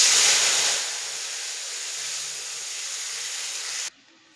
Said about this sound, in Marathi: त्यानंतर आपल्याला इकडे पाणी घालायचं आहे.